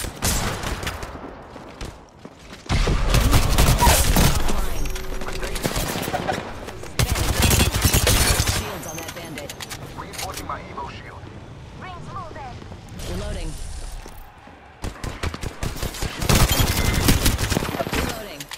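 Automatic weapon fire in the battle royale shooter Apex Legends, loud repeated bursts with short pauses between them, mixed with in-game effects and character callouts.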